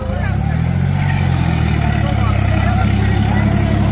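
A tractor at a tractor-trolley pulling contest runs with a steady, low, droning engine note after its engine gave out, with smoke and a red-hot silencer; the rumble holds constant throughout, with voices in the background.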